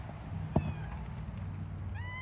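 A domestic cat meows several times outdoors near a chicken pen and netting, the calls fairly close over a steady low rumble of background noise, with a short sharp knock partway through.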